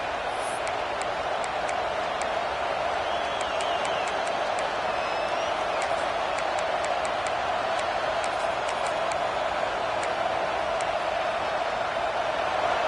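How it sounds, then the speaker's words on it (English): Football stadium crowd roaring continuously, a loud, dense wash of cheering and noise that holds steady throughout, with faint claps and whistles poking through. "It's early, but this crowd is fired up. Listen to this noise here."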